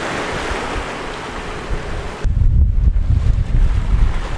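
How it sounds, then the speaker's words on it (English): Wind gusting over an old motor boat heading toward Portobello, a hissing rush of air at first, then abruptly switching to heavy low buffeting wind noise on the microphone, loud and continuous. "The wind's just picked up now"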